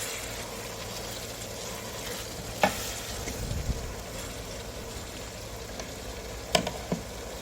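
Tomatoes and spices with cinnamon cook in a pan for karela bhujia, giving a low, steady sizzle with soft stirring scrapes and a few sharp utensil clicks, no talking.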